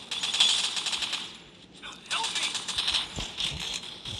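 Rapid bursts of video game gunfire crackle through the whole stretch, pausing briefly in the middle before the rattling shots resume at a steady, busy pace.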